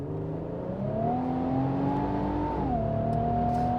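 A 2025 Infiniti QX80 Autograph accelerates hard, its engine note climbing steadily in pitch, then dropping briefly at a gear change before pulling on, loud and close from inside the cabin with no talking.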